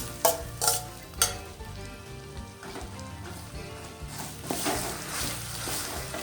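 Spiced potato mash stirred and fried in oil for aloo paratha stuffing, a few sharp scraping strokes at the start followed by continuous close sizzling and stirring.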